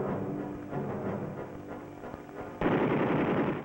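Anti-aircraft guns firing at a towed aerial target, a dense, continuous rattle of rapid shots that jumps suddenly louder near the end, heard at a distance with a muffled, old-recording quality.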